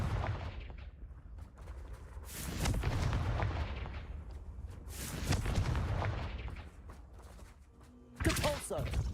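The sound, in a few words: Confringo blasting spell exploding in Hogwarts Legacy video game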